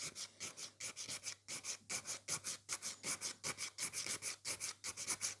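A file rasps back and forth across the free edge of a nail extension in quick, steady strokes, close and fairly quiet, roughly four strokes a second with no talking.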